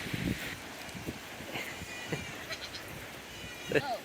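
Nigerian Dwarf goats bleat a few times amid a busy outdoor pasture background, with one louder, closer bleat near the end and fainter calls earlier.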